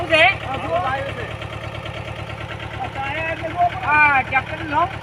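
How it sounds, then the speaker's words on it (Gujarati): A new farm tractor's engine idles with a steady low rumble, running continuously beneath people talking close by. "નવું છે ટ્રેક્ટર નવું છે આ જુઓ આવ્યો છે"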